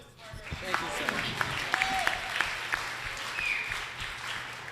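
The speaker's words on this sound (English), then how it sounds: "please, big round of applause" Audience applause for St. Paul mayoral candidate Melvin Carter at a public forum, a steady crowd clapping with scattered cheers and whoops over nearly five seconds, fading slightly toward the end.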